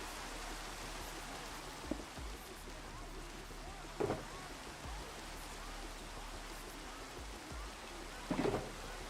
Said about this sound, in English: I need to finish the canopy so that it doesn't rain inside.